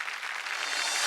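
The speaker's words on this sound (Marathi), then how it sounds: "एकदा जोरदार टाळ्या होऊन जाऊ दे." Studio audience applause on a Marathi women's game show, a dense, even wash of clapping that holds steady and swells slightly toward the end, with no voices over it.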